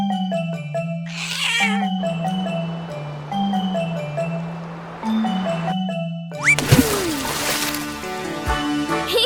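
A cartoon kitten in a children's animation meows a few times over a bouncy musical backing with chimes and tinkling effects, the cries rising and falling in a cute, sing-song way.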